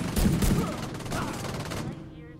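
Heavy weapon fire in The Division 2, a loud, continuous rattling volley that dwindles to a ragged tail before fading out, with a voice talking faintly underneath.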